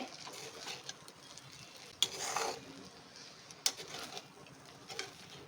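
Shavige uppittu, a vermicelli breakfast dish, is stirred with grated coconut in a pan: soft, quiet scraping with a couple of sharp utensil clinks against the metal, and no talk.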